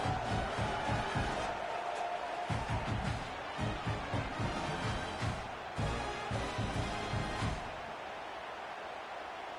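A stadium crowd in a college football video game roars loudly and steadily, a dense wall of cheering and noise with rhythmic swells and chant-like pulses before easing slightly toward the end.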